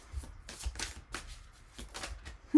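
A tarot deck is shuffled by hand and a card is drawn. Soft, close papery bursts come in quick irregular clusters against a quiet background.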